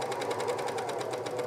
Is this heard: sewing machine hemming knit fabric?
yes